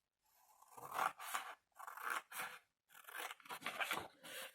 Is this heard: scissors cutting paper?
yes